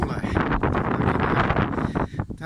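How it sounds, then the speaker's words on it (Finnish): Wind gusting across an exposed hilltop at Luolavuori near Turku, a loud continuous roar buffeting the microphone and filling the clip, with brief dips near the end. "huipulla tuulee"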